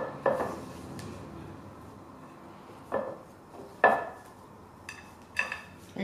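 A utensil mixes pastry dough with water and egg in a bowl, giving scattered clinks and scrapes against the bowl between softer rubbing sounds, close and fairly quiet.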